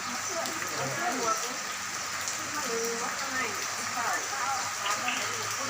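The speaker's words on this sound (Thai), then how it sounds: "อันนี้ฝนตกครับ" Rain patters steadily on surfaces outdoors, a continuous hiss with scattered drops, while someone talks nearby.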